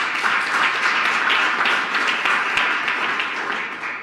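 Applause from a small group of about seven members of the press, a steady wash of clapping that holds at an even level for about four seconds before easing slightly at the end.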